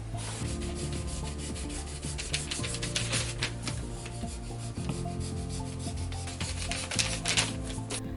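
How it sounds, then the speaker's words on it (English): Pencil lines are erased from a paper corset pattern draft, a steady dry rubbing scrub with quick back-and-forth strokes, close and continuous throughout with no talking. "So let me get to erasing all of this,"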